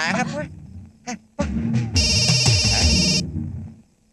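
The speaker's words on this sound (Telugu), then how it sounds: "ఫోన్ ఎవరిది?" A phone ringtone from a Telugu film scene rings for about a second, a loud, steady electronic tone that cuts in after brief speech and fades as talking resumes.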